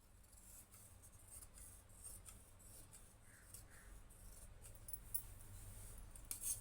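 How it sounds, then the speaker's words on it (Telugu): Scissors cutting through lining fabric for a garment, soft quiet snips and rustling close by over a faint steady hiss, no voices. "ఇలా నీట్గా కట్ చేసుకోవాలి."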